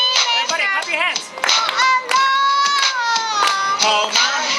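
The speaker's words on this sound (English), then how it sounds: "Everybody clap your hands." An audience at a school Christmas show claps hands along with a pop song, sharp, fairly steady claps under singing voices and music.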